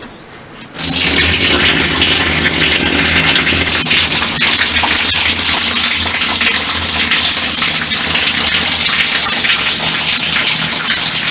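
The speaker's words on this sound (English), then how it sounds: "It's a bamboo pipe to make it even cooler. And the water just falls from it." Water pours from a bamboo pipe in an outdoor shower at an earth-built house in South Africa, starting abruptly as a loud, steady gush that runs continuously and close by.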